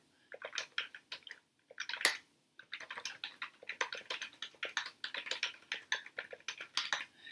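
Rapid, irregular clacking of keys on a computer keyboard while editing text in the vi editor, close and distinct, in short bursts separated by brief pauses.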